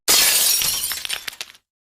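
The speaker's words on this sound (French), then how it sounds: "Tu viens de péter ma fenêtre?" Window glass smashing in one sharp, loud crash, followed by a short scatter of falling shards tinkling and clattering before abrupt silence.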